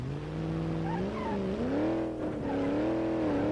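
A Moonhawk car engine in BeamNG Drive over-revs, a loud, steady high-pitched drone that climbs, dips and surges again as the throttle is held wide open, close and continuous with no talking.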